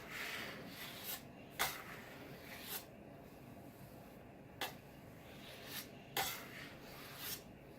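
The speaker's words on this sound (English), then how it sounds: "we're going to use our bench scraper here, and we're going to kind of push against our hand just a little, just to tighten it up" A bench scraper pushes and rounds sourdough bread dough on a work surface, giving soft scraping rubs with a few sharper scuffs spaced through the clip, close and quiet, with no talking.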